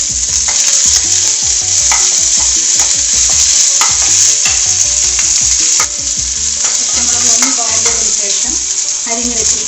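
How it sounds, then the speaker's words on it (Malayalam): Chopped ginger and green chillies sizzle loudly in a pan for a Kerala-style oyster mushroom thoran, with a constant frying hiss broken by repeated scraping and clacking strokes of a spoon as the mix is stirred, close and unvoiced. "ഇഞ്ചി അരിഞ്ഞത് ഇട്ടൊന്ന് ഇളക്കി കൊടുക്കുക."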